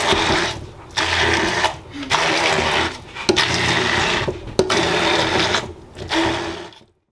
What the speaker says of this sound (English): So we're just gonna immersion blend this